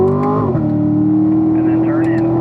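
A car on a track-style course revs in a lower gear, then the engine note drops as it shifts up into fourth and settles into a steady, loud drone, with brief higher whines later.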